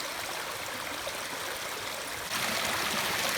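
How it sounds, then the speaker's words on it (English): Ice-cold stream water rushes below a mountain waterfall on a hike, a steady close hiss of flowing water that grows slightly louder near the end, with no voices. "there's the waterfall below us. That water's ice cold"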